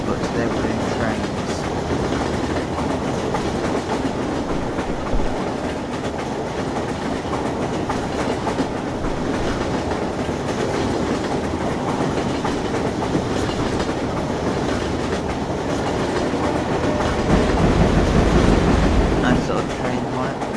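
A train rolls along tracks in Garry's Mod, a continuous loud rumble with rhythmic clickety-clack and a swell near the end, with voices talking over it.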